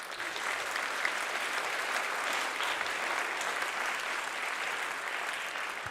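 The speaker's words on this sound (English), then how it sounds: "hand clap, applause." Steady, dense applause from a school concert audience at a high school music end-of-year event, an even wash of many hands clapping together without pause for several seconds.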